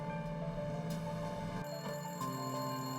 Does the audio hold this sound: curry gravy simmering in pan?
no